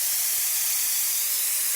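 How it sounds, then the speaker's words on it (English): An espresso machine's steam wand, an Alex Duetto, hisses steadily as a loud, continuous broadband rush that carries on unbroken with no talk over it. "And of course, if we have steam"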